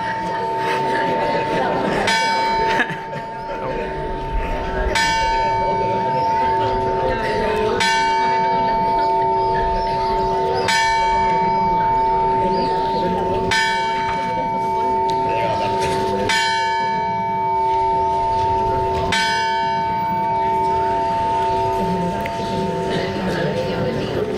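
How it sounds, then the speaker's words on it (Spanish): Church bells ring out in a slow, regular series of strikes, roughly every three seconds, over a steady sustained tone and a background of crowd murmur and voices. "doy comienzo a las campanas"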